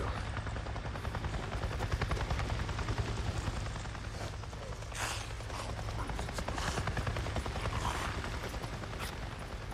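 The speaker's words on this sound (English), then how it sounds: "I just saw a goddamn chopper!" A helicopter in the video game Days Gone thrums overhead with a steady rapid rotor chop, loud and continuous, with mechanical rattles and creaks mixed in.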